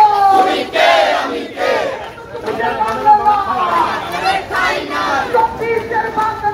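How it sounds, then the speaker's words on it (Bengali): Left-wing student protesters at Dhaka University chant slogans in unison, a loud rhythmic crowd of voices rising and falling in close, repeated call-and-response phrases. "বামপন্থী যেই ছাত্র প্রতিনিধিরা রয়েছেন তারা এই মুহূর্তে ঢাকা বিশ্ববিদ্যালয়ে বিক্ষোভ করছেন"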